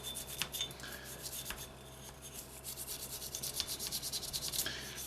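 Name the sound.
polymer brush scrubbing an HK VP9 pistol slide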